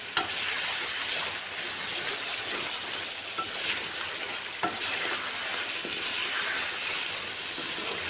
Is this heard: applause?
no